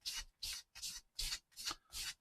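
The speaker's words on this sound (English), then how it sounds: "So an oldish worn out sander does a great job on these." An old, worn sanding pad rubbed over a small Matchbox die-cast model car, making six rhythmic, close scratchy strokes of even length, with no voices.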